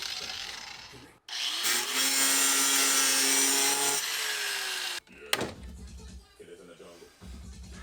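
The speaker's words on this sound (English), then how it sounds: "we're gonna cut a flathead slit in it" A cutting tool slices a flathead slot into a stuck bolt at a junkyard, a loud, steady whining grind of several seconds that ends abruptly, with talking afterward.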